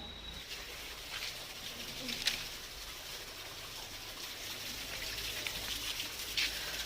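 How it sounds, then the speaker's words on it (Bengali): Rain falling outside in the dark after a whole night of rainfall, a steady soft hiss with faint scattered drips, continuous and fairly quiet throughout. "সারা রাত বৃষ্টি পড়েছে এখনও পড়ছে"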